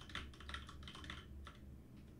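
Keys on a USB computer keyboard plugged into an Xbox Adaptive Controller are pressed in quick, repeated clicky bursts, fairly close and alone, with a steady low hum underneath.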